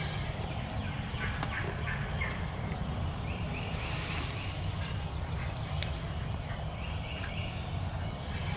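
Several faint, distant gobbles of a wild turkey in spring woods, spaced a couple of seconds apart over a steady low outdoor background rumble.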